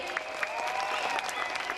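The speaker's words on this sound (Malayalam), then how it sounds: "ഷിജു അടിമാലിക്ക് നല്ലൊരു കൈയടി." Steady applause from the audience at a Mappilappattu stage show fills the whole stretch, dense and continuous clapping with crowd noise and no pauses.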